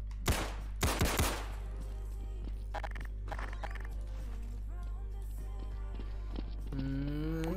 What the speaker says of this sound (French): je peux savoir pourquoi tu tires partout en ville